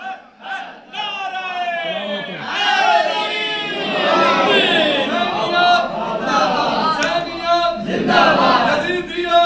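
A large crowd at a Shia religious majlis chants "Haider" in unison, loud massed voices repeating the name rhythmically and continuously, close and reverberant.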